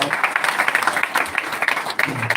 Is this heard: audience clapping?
yes